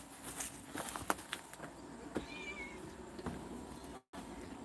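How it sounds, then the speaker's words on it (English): Cat meowing in a video game, a short high rising call heard faintly amid game background noise and soft footsteps, with a brief dropout near the end. "I also see a cat."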